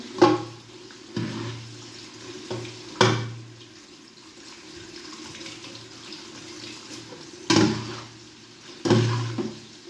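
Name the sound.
water draining from boiled pasta in a colander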